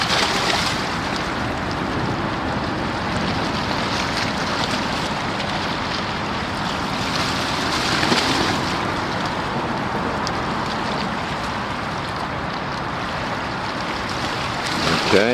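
Loaded APL Coral container ship arriving at New York from Singapore, a steady broadband rumble of engine, water rush and wind noise running unbroken throughout, fairly loud and close, with no talking.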